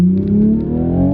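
A new Toyota Supra roadster in sport mode accelerates, giving a brief loud engine tone whose pitch climbs steadily as it revs up, heard from inside the car.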